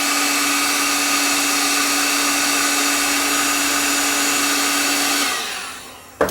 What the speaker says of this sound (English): Put my heat gun on high.